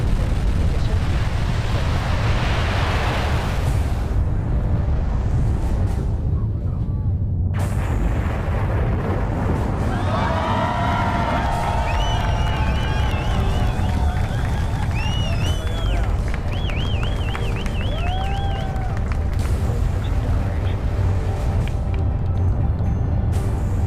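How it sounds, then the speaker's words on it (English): Nine Merlin first-stage engines of a rocket igniting at night launch, a loud continuous roaring rumble with crackling, steady throughout, with whistling tones and crowd noise in the middle section. "At T-minus 3 seconds, the 9 Merlin engines of the first stage ignite."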